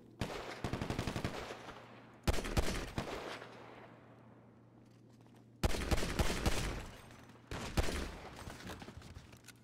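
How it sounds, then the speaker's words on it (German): Automatic and rapid gunfire from a GTA roleplay shootout comes in dense, loud bursts. It breaks off and resumes several times over a steady background hum. "Hört auf zu schießen, die Polizei, ergeben Sie sich."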